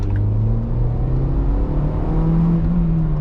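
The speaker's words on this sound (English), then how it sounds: "If you rev this up, you can hear the turbo." The turbocharged engine of a 2015 MINI Cooper Countryman S ALL4 revs inside the cabin, a steady loud droning hum that rises slightly in pitch with a faint whir on top.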